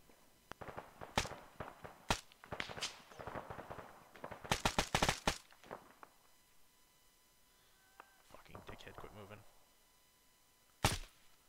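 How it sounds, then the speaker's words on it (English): A light machine gun in the Arma 3 video game fires in rapid bursts of sharp cracks, fairly near, with scattered quieter shots and gear noises between them. "The LMG at the end of the runway is fucking blasting at us"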